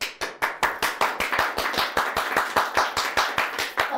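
A single person claps steadily in a studio, about four crisp claps per second in an even rhythm, close and sharp with no talking.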